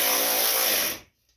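Power tool running on a Cub Cadet lawn mower deck to tighten the bolts, a loud steady whir that stops after about a second, followed by a brief final burst.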